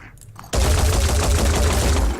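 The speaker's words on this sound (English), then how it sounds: "let's go ahead and try to take that shot. Destroy what we can." Gunfire in the tactical strategy video game Phoenix Point: quiet ambience, then at about half a second a loud, sustained burst of shots or an explosion that keeps roaring to the end, with no talk.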